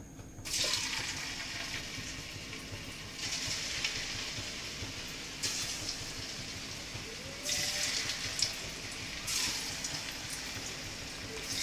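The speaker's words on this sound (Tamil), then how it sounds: "இப்போ இதை நம்ம ஆயிலில் போட்டு பொரிச்சு எடுக்கலாம்" Snake gourd pieces deep-frying in hot oil in a kadai give a steady, close hiss and sizzle, swelling each time another piece drops in, with no voices over it.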